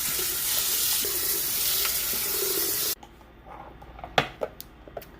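Water drains out of a soy milk machine in a steady rushing pour for about three seconds, then stops abruptly, leaving faint drips and small clatters.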